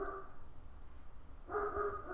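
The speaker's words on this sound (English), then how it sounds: "And if you hear dogs barking" Dogs bark somewhere in the distance, a faint burst near the start and another from about one and a half seconds on, set against a low steady background rumble.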